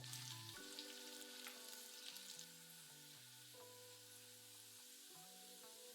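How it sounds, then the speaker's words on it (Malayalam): Finely chopped garlic cloves frying in hot oil with spluttered mustard seeds, a soft continuous sizzle with light crackle, quiet and close, under steady background music. "5 വെളുത്തുള്ളി അല്ലി ചെറുതായിട്ട് അരിഞ്ഞത് ഇട്ട് മൂപ്പിക്കുക."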